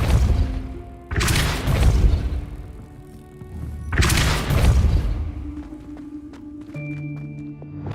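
Depulso spell impacts in the video game Hogwarts Legacy land as two heavy, loud booming thuds a few seconds apart, each followed by a crashing rumble that fades into lingering tonal game ambience.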